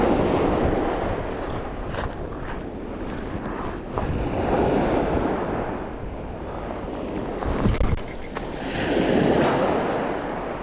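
Sea waves wash onto Eastney Beach in rolling surges, each swell building and receding over steady wind buffeting the microphone, loud and close with no voices.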